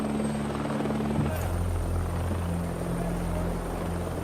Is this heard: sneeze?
no